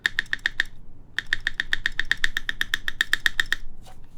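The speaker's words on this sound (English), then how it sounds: "That's definitely the flashing from the plastic rubbing a little bit." Keys are pressed on a mechanical keyboard with plastic flashing rubbing, giving rapid, crisp clicking strokes in two quick runs separated by a brief pause, close and clear, with no talking.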